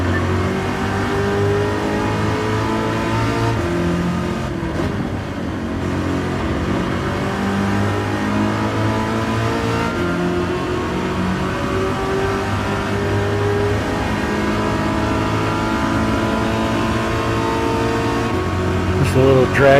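Race cars accelerating side by side in a video game drag race, a steady loud engine drone with rising revs and gear changes, with someone talking over the engines.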